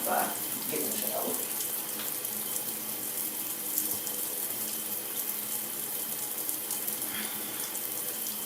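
Water from a shower runs in a steady hiss that holds at an even level throughout, with a few faint knocks and splashes near the start.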